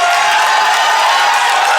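A sold-out crowd watches a wrestling match inside Mr. Small's Theater. Their loud, continuous roar of cheering fills the hall without a break for the whole short stretch.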